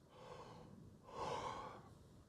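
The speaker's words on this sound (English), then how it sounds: "That was a yawn." A single drawn-out yawn during a software conference talk: a breathy, rising-then-falling exhale lasting under a second, fairly close and soft, with quiet room tone around it and no speech.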